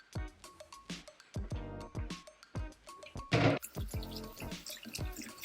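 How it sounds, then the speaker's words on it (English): Beans rinsed in a kitchen strainer, with water trickling and dripping through them in a series of irregular splashes and drips, close and fairly quiet. "We're rinsing the beans."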